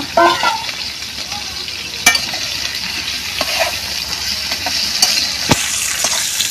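Potatoes frying in a hot pan give a steady, loud, close sizzle, broken by a few sharp clinks and scrapes of stirring.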